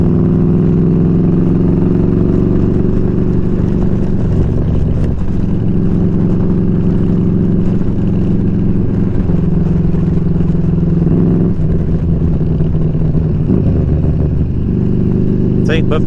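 A motorcycle engine with a suspected throttle position sensor fault and a resealed intake runs steadily and loudly close by, its pitch shifting slightly as the revs rise and fall.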